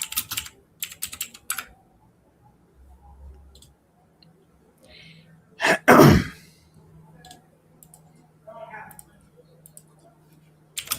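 Keystrokes clatter on a computer keyboard through an open mic in quick, uneven bursts, close and crisp, broken by a loud throat-clearing or sneeze-like burst midway and scattered quieter clicks afterward.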